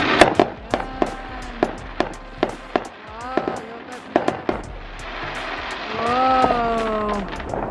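Neighbourhood Fourth of July fireworks in America burst in a series of sharp, loud cracks and bangs, some close together, followed by a rumbling burst while a voice exclaims between the explosions.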